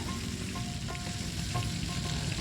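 Chicken thigh legs frying on a tawa, giving a steady, close sizzle and crackle of hot oil that runs unbroken and fairly loud with no voices.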